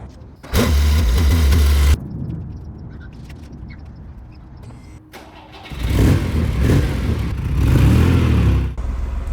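A Ferrari Dino pulls out of a driveway, its engine revving hard in two loud, close bursts with a quieter running stretch between them.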